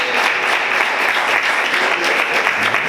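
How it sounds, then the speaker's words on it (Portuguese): A church congregation bursts into steady, dense applause during a sermon, a full, close wash of many hands clapping without pause that fills the space. "Você pode aplaudir o Senhor por isso"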